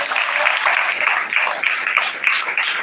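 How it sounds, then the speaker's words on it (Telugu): An audience at a Christian testimony gathering claps together in sustained, dense applause that fills the space evenly, with no voices standing out. "కొడదాం గట్టి చప్పట్లు"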